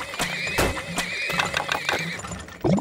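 A horse whinnies in the oil-drilling game Turmoil, a long, wavering, high-pitched neigh carried over rhythmic clip-clop hoofbeats and a steady mechanical hum, ending with a brief thud.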